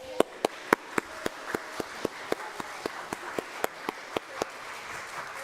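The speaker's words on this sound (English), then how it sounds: "Let's give them a round of applause." Sparse, slow clapping from a church congregation at a Sunday service, distinct individual claps in a steady rhythm over a soft background murmur.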